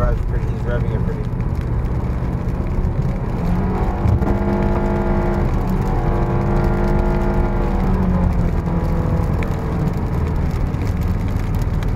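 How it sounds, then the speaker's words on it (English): A Ford Mustang engine revs and drones steadily while driving, rising and falling in pitch over several seconds, with road and wind noise and voices talking over it. "He has the revs pretty. He's revving it pretty."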